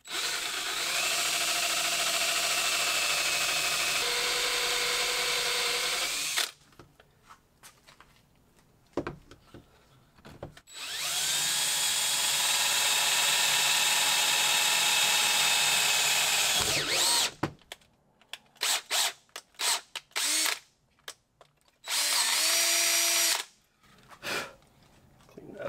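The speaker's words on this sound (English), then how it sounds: "I'm going to pre-drill that hole with an eighth inch." A handheld power drill pre-drills an eighth-inch hole in a truck's metal throttle pedal, whining loud and close in several long bursts separated by short pauses and brief stops.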